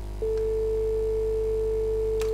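A steady single-pitch telephone tone sounds in a video game's cabin, starting abruptly and holding evenly over a low hum, with a faint click near the end.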